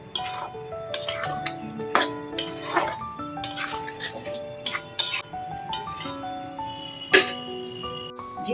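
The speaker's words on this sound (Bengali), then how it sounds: "আবারও খুব ভালোভাবে নেড়ে নিতে হবে।" Paneer curry being stirred in a pan, a vegetarian Bengali home dish, with irregular metallic clinks and scrapes of a spoon against the pan, fairly close, over a faint background hum and some musical tones.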